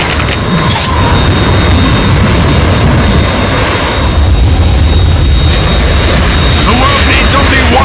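A Harrier jet attacks in Metal Gear Solid 2, a loud, continuous roar of jet engine noise with booming bursts and rumbling explosions that stays dense and intense throughout.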